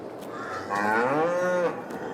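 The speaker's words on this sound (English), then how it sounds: "Let's check on the cows since we're right here." A single cow moos once in Farming Simulator 22, long and drawn out, sliding down in pitch over a quiet background.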